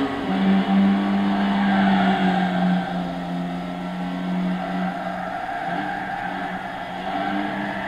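A 1986 Toyota MR2 1.6 16V in Gran Turismo 6 slides its rear out, with a sustained engine drone and a steady tire skid that holds for several seconds, then eases off, with no talk.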